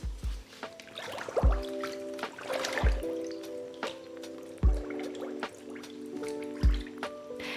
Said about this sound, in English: The first thing I'm going to do is pre-soaking my yarn in water with white vinegar.